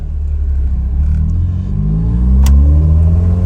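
A Honda CRX with a hydro transmission conversion revs up close and loud on a test drive, its low steady drone rising smoothly in pitch as the car accelerates, with no talk.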